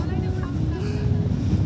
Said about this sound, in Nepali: फाइनल्ली हावा चल्नु सुरु भइसकेको छ यो डाँडामा चाहिँ एकदम चिसो हावा